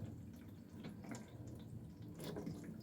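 Cooking water from boiled sweet potatoes poured off and dripping, a steady close splashing trickle with scattered drips throughout, no talking.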